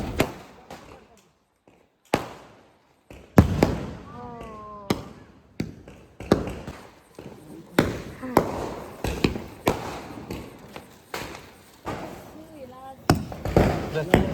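Diwali firecrackers bursting outdoors during festival celebrations, a series of sharp loud bangs spaced irregularly over fourteen seconds, with people talking and shouting in between.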